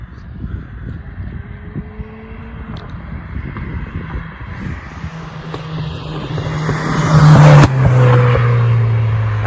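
A Renault Clio 4 RS engine with a stainless-steel exhaust line rumbles and revs up, its exhaust growing louder and harsher toward the end, heard from close by.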